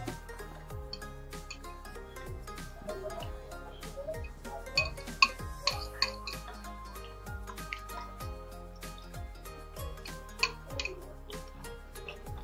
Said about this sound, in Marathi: आता हे छान आपल्याला बीट करून घ्यायचंय।